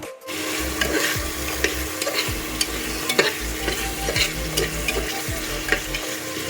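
Masala for a goat meat curry fries in oil, a dense continuous sizzle with repeated stirring and scraping in the pan, and a low steady hum running underneath.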